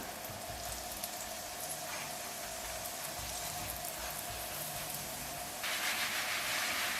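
Chive flatbread dough frying in a lightly oiled, preheated flat pan gives a soft, steady sizzle that grows brighter toward the end, with no talk.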